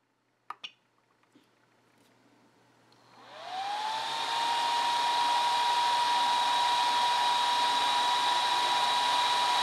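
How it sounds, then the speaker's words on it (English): Cooling fan in an ISDT SC-620 lipo charger spins up after a few soft clicks, rising quickly to a steady, even whir with a faint tonal hum that continues alone at moderate level. "You can hear the fan kicked on."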